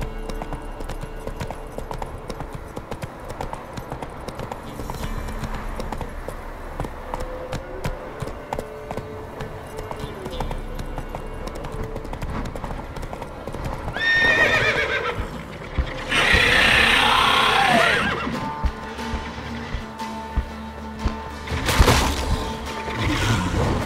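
Roach the horse in The Witcher 3 clip-clops along steadily, then lets out a loud neigh and whinny before the hoofbeats resume, with game music playing underneath.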